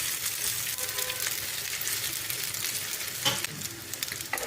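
Meatballs sizzling and crackling steadily in hot oil, with an occasional clink or scrape of a utensil.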